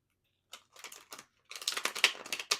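Tarot cards being shuffled, close and crisp, with a few short riffling bursts and then a longer run of rapid flicking and slapping cards.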